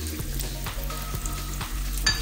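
Whole spices, bay leaves and cloves stirred into frying ginger garlic paste for mutton biryani, with a steady sizzle and regular scraping strokes of a spoon, close by and without talk.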